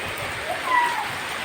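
Heavy rain falls in a dense, steady hiss of water, continuous and fairly loud with no pauses.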